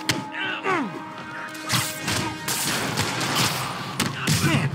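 Gunfire in Marvel's Spider-Man Remastered, with sharp shots and impacts bursting repeatedly through a noisy game fight while voices shout over the action.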